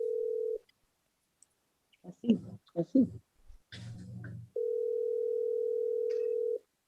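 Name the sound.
telephone call ringing tone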